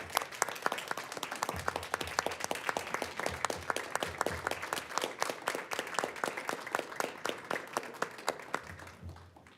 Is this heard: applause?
yes